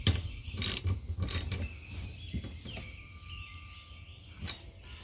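A ratchet wrench turns a 12mm nut on a car windshield wiper motor, with a few sharp clicking bursts near the start followed by quieter mechanical sounds.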